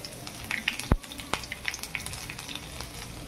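Mustard seeds splutter and pop in hot oil for a tempering, giving sharp scattered crackles over a sizzling bed, with one louder thud early on.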